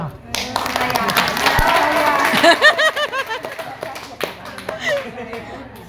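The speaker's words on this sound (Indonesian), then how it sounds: "Tepuk tangan." An audience claps at a home-sharing gathering of young HNI members in Indonesia, a burst of scattered hand claps mixed with voices, laughter and chatter that continue throughout.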